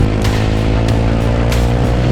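A Yezdi Roadster motorcycle engine revs hard and steady, a loud continuous mechanical drone with strong low harmonics holding high RPM throughout, close to the microphone.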